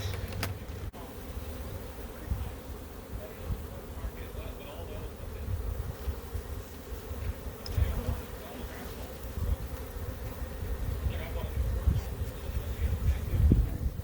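Bees from an opened Italian honey bee hive buzz in a continuous low drone, close and steady, with individual insects swelling louder as they pass near.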